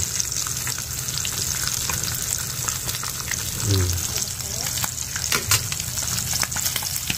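Food sizzles and crackles steadily in a hot pan, close and continuous, with a few scraping stirs partway through.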